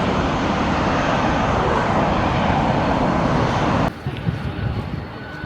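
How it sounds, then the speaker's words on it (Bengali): An airplane passing beside a runway next to a hotel, a loud broad steady jet roar that cuts off abruptly near the end, leaving quieter ambient noise. "আর পাশ দিয়ে এরোপ্লেন যাচ্ছে, কিছু আওয়াজ আসছে, পাশেই অ্যাকচুয়ালি রানওয়ে।"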